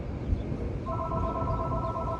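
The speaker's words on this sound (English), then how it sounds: "Of course, the phone's ringing." A telephone rings in a room during an exercise class, its electronic trill entering partway through and continuing steadily, moderately faint beneath background room noise.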